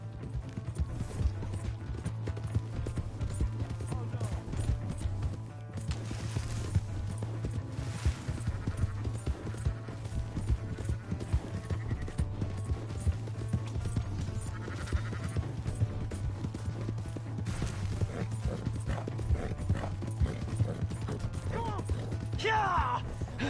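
Horse hooves clip-clop steadily in the Red Dead Redemption 2 video game, a continuous rhythmic trot under a low game drone, with voices talking over it.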